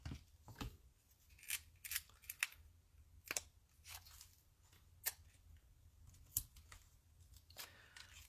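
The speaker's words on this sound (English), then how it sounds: "Let's cut a piece of this down and we'll put that on the back of the bowl." Scissors snip through a sheet of designer paper in a quiet craft room, a series of short crisp cuts spaced irregularly over several seconds, close and fairly soft with no talking.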